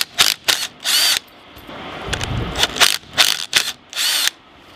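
Power tool driving a 5/16 socket to remove a bolt from an A/C compressor on a Freightliner Cascadia DD15, heard as several short, sharp whirring bursts with clicking between them, close and fairly loud.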